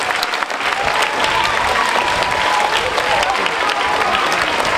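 A school anniversary audience claps for the parents, a full, steady burst of crowd applause filling the room, with faint voices mixed into the clapping.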